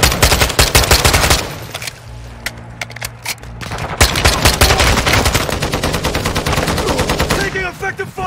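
Rapid automatic gunfire from Call of Duty Modern Warfare 2 DMZ, loud bursts of machine-gun shots with a brief lull before firing resumes, shouted voices mixed in.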